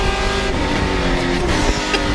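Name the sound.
race cars at Mid-Ohio track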